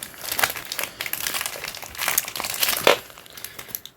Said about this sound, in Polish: Mamy woreczek, więc akurat w miarę mi się dobrze to uda otworzyć jedną ręką.